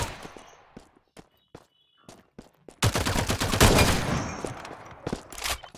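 Gunfire in the video game Farlight 84: a few sparse footsteps and isolated taps, then a loud sustained burst of rapid automatic shots lasting about three seconds, tapering into scattered shots.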